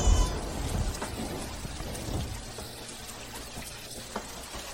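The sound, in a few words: rain falling at night, drama sound effect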